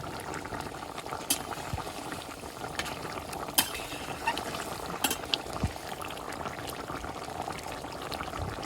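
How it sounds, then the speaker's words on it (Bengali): Curry simmers in a pot in a village kitchen, a steady low bubbling with occasional sharper pops and plops, heard alone without talk. "তরকারিটা হয়ে গেছে আর ঝোল রাখবো না বেশি"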